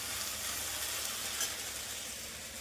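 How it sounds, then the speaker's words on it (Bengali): Okra and potatoes fry in a pan, giving a soft, steady sizzle that stays faint and even throughout with no talking. "ভেন্ডি আলুটা ভাজা চলছে"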